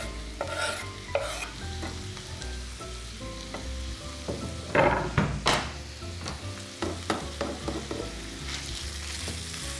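Meat fries in a pan while a utensil stirs it, a soft background sizzle broken by several scraping, clattering stirring bursts, the loudest cluster near the middle.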